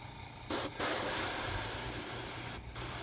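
Primer sprays from an aerosol can onto a miniature model in a long steady hiss, with two brief pauses as the nozzle is released and pressed again.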